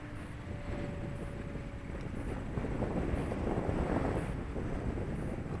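Strong gusts buffet the microphone at an RC plane flying field, a loud, steady rumbling roar of high wind that swells and eases without letup.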